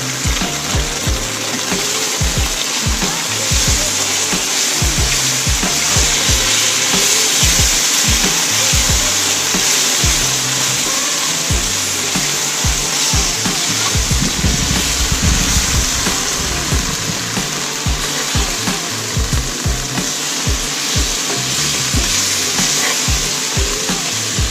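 Strawberries softening in a hot pan for a French toast topping, a steady hissing simmer close up under a constant whooshing hum, with no talk.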